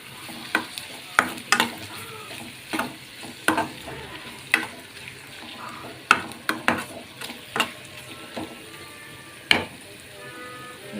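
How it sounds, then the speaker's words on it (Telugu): A spoon stirs ginger garlic paste into a sizzling curry in a pan, with repeated sharp scrapes and clinks against the metal over a steady frying hiss, close and fairly loud, with no talk. "ఒక ½ టీ స్పూన్ అల్లం వెల్లుల్లి పేస్టు వేసుకుని కలుపుకున్నామండి."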